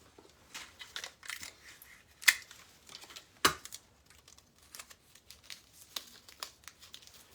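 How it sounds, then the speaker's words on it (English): Tape is torn and pressed onto a paper Valentine's Day wreath, heard as quiet, close crinkling and rustling with two sharper tearing rips. "your last 2, you'll just tape those together as well"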